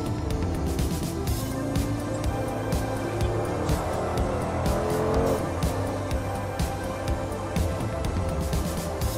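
A 2019 Mercedes-AMG G63 Edition 1 accelerates hard on a highway, its loud, steady engine roar rising in pitch with shifting gears and continuous road and tire noise throughout.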